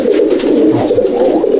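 Pigeons coo in a low, continuous, throaty warble close by inside a racing pigeon loft in Akra, Kolkata, the soft rolling calls overlapping with no voices.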